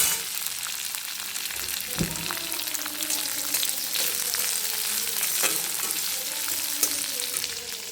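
Onions frying in a pan for dal khichdi, a continuous bright sizzle with occasional stirring scrapes and clinks, close and steady throughout.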